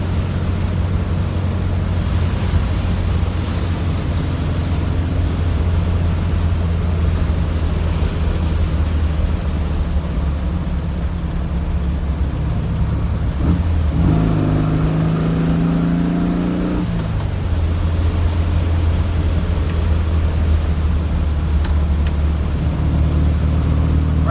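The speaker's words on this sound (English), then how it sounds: "I do apologize if there's a lot of wind noise" Steady broadband wind roar fills the cabin of an old Volkswagen with worn door rubbers while driving, over a low engine drone, with a brief rising engine pitch midway as the car shifts and pulls forward.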